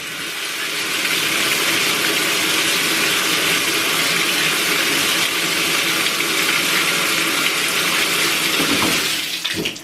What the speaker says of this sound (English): all I do is simply run the water